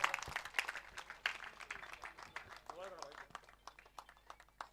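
Sparse, light clapping from a crowd at a prize distribution for a local cricket tournament, the Kunbi Yuva Champion Cup 2026, mixed with talk and crowd noise rather than a full ovation.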